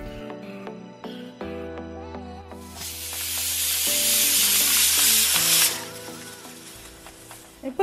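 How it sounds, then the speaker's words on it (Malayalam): A large block of jaggery melting in a hot pan for broken wheat payasam swells into a loud, hissing sizzle for a few seconds, then drops away, with soft background music playing throughout. "ഞാൻ ഇത്രയും വലിയൊരു ശർക്കര നന്നായൊന്ന് ഉരുക്കിയെടുക്കുകയാണ്"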